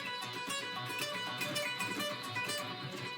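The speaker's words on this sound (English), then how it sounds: "If I was supposed to do this lick with alternate picking," A metal guitar lick played with alternate picking on electric guitar comes as a fast, dense run of distorted notes, loud and continuous, with no talking over it.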